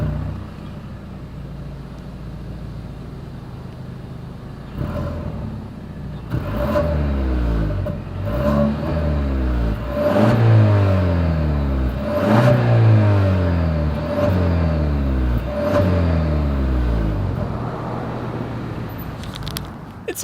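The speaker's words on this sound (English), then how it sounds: "As always, here is that exhaust clip." A 2021 Genesis G80 sedan with dual chrome trapezoidal exhaust outlets idles and then is revved repeatedly, about half a dozen sharp throttle blips in a row. Each rev rises and falls in a rhythmic pattern before the engine settles back to a quieter idle, heard up close.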